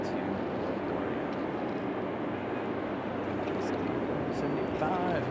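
A Delta SkyWest airliner departs Raleigh-Durham International Airport as a steady, unbroken jet roar heard from a distance, holding an even level throughout.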